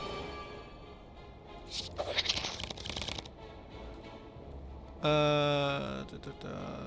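Cards shuffle in a deckbuilding video game as the draw pile is reshuffled, a quick rustling flurry of soft papery riffles, followed by a brighter chiming game effect, all fairly quiet.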